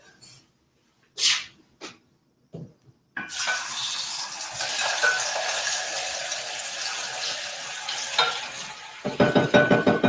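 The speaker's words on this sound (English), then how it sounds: "let's throw the potatoes to the fryer" Potatoes go into a fryer for lomo saltado. A few quiet knocks and thuds come first, then a loud, steady hiss of hot oil erupts and holds. The bubbling surges again near the end, with no talking.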